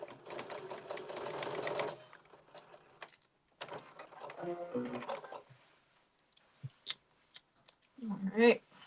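A sewing machine stitches a KnowMe blazer in short bursts separated by pauses, with quieter handling noises and a voice speaking between runs.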